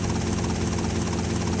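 Helicopter rotor and engine drone in the video game GTA Vice City, a continuous loud low thrum with steady pulsing, no talk over it.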